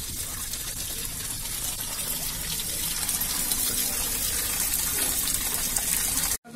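Spring water pouring steadily at Garpanchkot, Purulia, a dense continuous gushing splash heard close and loud, with no pause until it cuts off abruptly at the very end.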